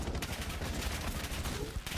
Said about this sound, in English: I don't think you could be under any more gunfire if you tried.